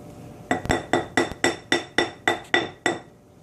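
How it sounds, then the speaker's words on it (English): A utensil stirs oil into melted glycerin soap base in a glass container, making about ten bright, evenly spaced clinks against the glass in a quick regular rhythm. The clinks fade out at the end. "you can give it just a little bit of a stir before you throw it into the microwave"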